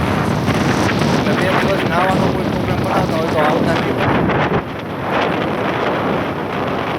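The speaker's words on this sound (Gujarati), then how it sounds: "ગાંડો પવન ને ગાંડો થઈ ગયો છે દરિયો." Strong wind and a rough sea at a Goa beach, heavy gusts roaring against the microphone over continuous churning surf, with someone talking throughout and a brief lull in the wind near the end.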